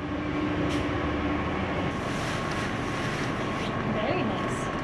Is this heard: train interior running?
yes